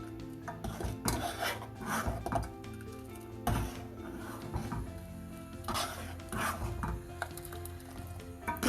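Milk mixture with condensed milk stirred in a pan for falooda, a series of close scraping and clinking strokes of a spoon against metal in an irregular rhythm, with no talking.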